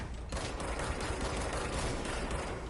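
Gunfire at enemies in the video game Control, a steady dense stream of rapid shots with mechanical clatter, continuous and fairly quiet throughout with no talking.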